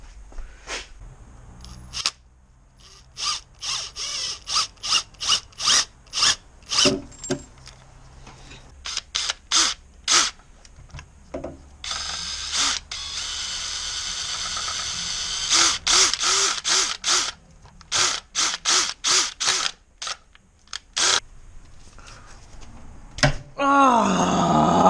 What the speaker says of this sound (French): je vais même visser direct dans le bloc, enfin dans le... pas dans le bloc